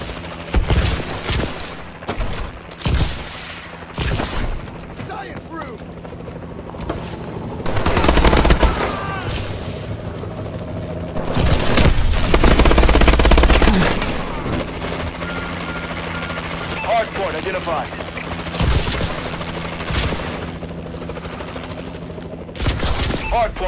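Warbird aircraft in Call of Duty: Advanced Warfare fire in support with bursts of rapid gunfire and booms over a droning rotor-like engine, loud and repeated, mixed with game effects.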